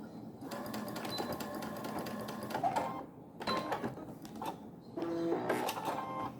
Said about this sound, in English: And just back stitch when you get to the end.